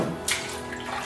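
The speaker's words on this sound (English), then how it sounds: "Just a quick rinse and a bit of a clean for all of the molds" Rubber castle molds being rinsed under running water, a brief close splashing gush that briefly intensifies, with no talk.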